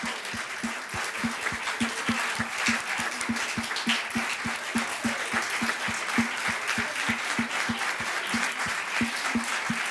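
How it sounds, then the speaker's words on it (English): An audience at a Providence artist talk applauds steadily for the full stretch, a dense, even wash of many hands clapping with no voices rising above it. "just do one more round of applause for all of the people who made this possible"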